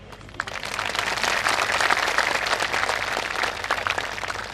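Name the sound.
audience applause at a Ram Katha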